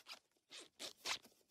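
A clothing zipper being zipped up in four quick rasping strokes, each a short scratchy burst separated by brief pauses, quiet and close with no voices.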